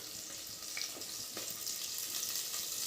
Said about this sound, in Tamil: இப்போ வெங்காயம் நல்லா வதங்கிட்டுருக்கு.